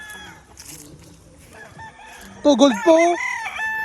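A gamecock raised for cockfighting crows loudly once near the end. Quieter clucking and rustling come before it, and a person speaks briefly.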